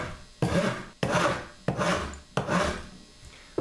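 Rasps file a wooden Brunswick rifle stock during carving, four long, rough strokes in a steady rhythm, each a close, loud scraping rasp separated by brief gaps.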